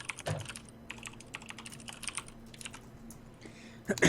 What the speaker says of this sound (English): Loud keyboard you got there.